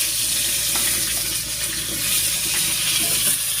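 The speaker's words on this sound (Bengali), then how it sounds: "এবার পটলটা হালকা করে ভেজে নেব, আর তার জন্য কড়াই দিয়ে দিচ্ছি সরষের তেল" Pointed gourd (potol) frying in mustard oil in a kadai gives a steady, close sizzle with a constant bubbling hiss throughout and no talking.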